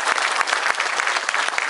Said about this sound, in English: I can't believe you're clapping for me because I read the bills.